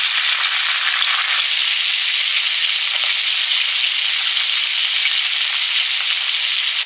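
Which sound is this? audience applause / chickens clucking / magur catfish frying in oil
magur catfish frying in oil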